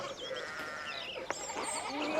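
Sheep bleat faintly in a medieval village farmyard in Pentiment, where a fallen fence rail lets the flock hop over; a few short wavering calls sit under a soft ambient bed.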